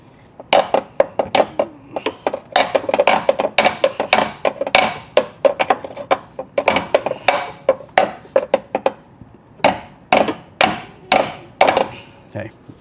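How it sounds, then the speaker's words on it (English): A hammer taps on a Ram ProMaster City van's control arm, delivering dozens of sharp metallic strikes in quick irregular bursts with short pauses, loud and close, with no talking. "I've had to actually kind of tap this up with a hammer to give it just enough clearance"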